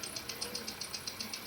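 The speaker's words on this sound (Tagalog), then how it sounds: "Yun, umistart na itong makina, nawala na yung palya, pati yung knocking, wala na rin." A Hyundai Accent engine idles after repairs for misfire and knocking, heard as a quiet, steady running hum with a regular rapid ticking pulse, close and alone with no voices.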